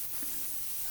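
A steam cleaner sprays onto a RAM 6.7L Cummins diesel engine, giving a steady faint hiss throughout the short moment with no talk.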